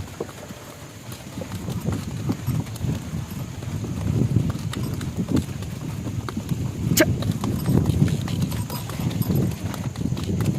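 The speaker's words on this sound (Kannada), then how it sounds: "ನಾನು ಎತ್ತಿನ ಗಾಡಿ ಮೇಲೆ ಬರ್ತಾ ಇದ್ದೀನಿ" Bullock hooves clip-clop at a steady trotting rhythm over a low rumbling cart and road noise, heard close with no one talking.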